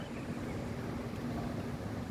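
Steady, broad rushing wind on a mountain hiking trail buffets the microphone, with a low rumble throughout and no voices.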